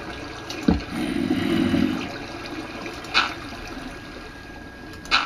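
Water sounds from the video game Minecraft: a soft splash and wash of liquid with a brief swell, then a couple of short watery bursts later, fairly quiet with no talking.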